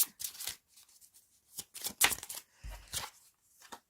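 Tarot cards being shuffled and drawn for a reading: several short papery riffles and flicks in quick uneven bursts, close by and with no talking.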